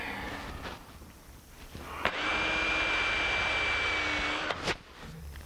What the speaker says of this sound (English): Let me grab a countersink.